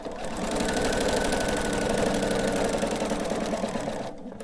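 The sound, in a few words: sewing machine quilting along a chalk line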